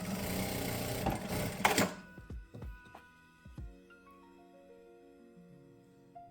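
A Jack A4C industrial sewing machine runs a burst of fast stitching with automatic backstitch at start and end, a loud whirring run that cuts off, followed by several short clicks and thumps and a high electronic beep near the end.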